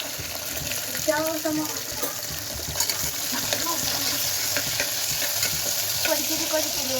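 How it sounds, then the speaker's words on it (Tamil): Shallots and green chilies sauté in a pan with a continuous sizzle and intermittent stirring scrapes, close by, with faint voices in the background. "நல்லா வதக்கணும்"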